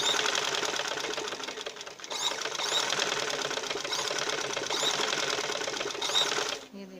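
A sewing machine stitching a shalwar runs in a continuous close whir of rapid needle clatter, pausing briefly mid-run and stopping near the end.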